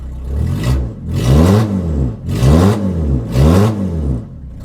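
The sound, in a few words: car engine revving with homemade stainless exhaust, open pipe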